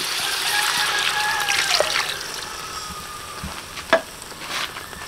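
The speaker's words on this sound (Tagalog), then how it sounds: "Kumukulo-kulo na." Seashells boiling in a pot of water on an outdoor cook, a steady bubbling hiss with trickling, stirring sounds and a couple of sharper clinks, close and continuous.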